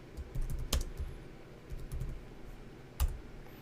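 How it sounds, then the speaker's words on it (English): Computer mouse clicks while working in NX CAD software, a few sharp close clicks spaced irregularly over a quiet room background, with no talk. "Just by coming in, clicking in that space, clicking again."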